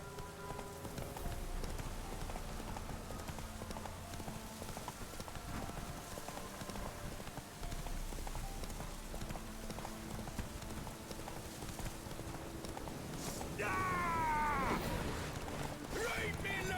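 Horse hooves clip-clop at a steady walking rhythm in The Witcher 3, quiet and close, with game ambience and a brief voice near the end.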